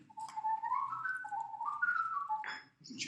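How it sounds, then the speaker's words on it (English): A human whistler performing a ventriloquism-style technique with an unmoving mouth: a clear, wavering melodic whistle rising and falling in pitch, close and fairly quiet, with a brief breathy break near the end. "That's an example of the technical part of the human whistle."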